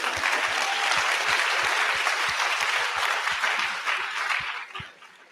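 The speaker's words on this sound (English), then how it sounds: "yes, let's applaud that." An audience claps enthusiastically in a sustained burst of applause that holds steady, then tapers off near the end.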